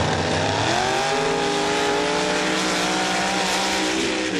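A mud truck racing down a drag strip at a Laporte, Indiana event, its engine roaring loud and steady with rising revs throughout, no voices over it.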